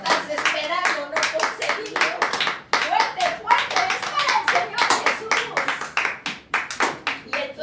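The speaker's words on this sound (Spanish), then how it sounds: "Un fuerte aplauso a nuestros Dios." A church congregation claps during a service, sharp close hand claps in an uneven, lively rhythm, with voices speaking and calling out underneath.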